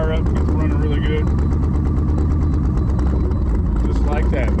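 A car engine starts and settles into a loud, steady running rumble, with a voice talking over it.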